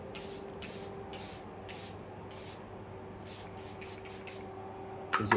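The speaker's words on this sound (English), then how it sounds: "The dewy setting spray from Anastasia Beverly Hills is also really good." Anastasia Beverly Hills dewy setting spray misted in a rapid run of short, bright hisses, about five quick pumps, a pause, then another burst of six or so, close and fairly quiet with no talking.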